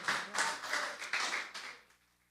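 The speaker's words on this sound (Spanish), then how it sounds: "Dele un aplauso al Señor." Applause during a church service: a short burst of warm, crowd clapping with a few swells, dying away after about two seconds.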